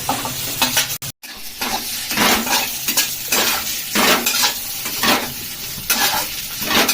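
Sliced onions with spices and a little chili powder fry in a pan, sizzling steadily while a utensil scrapes and stirs in a repeating rhythm, close and fairly loud.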